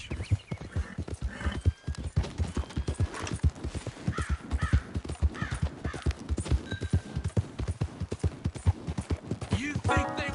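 Horse hooves clip-clopping steadily at a walk in the video game Red Dead Redemption 2, close and rhythmic, with crows cawing and a brief whinny in the background.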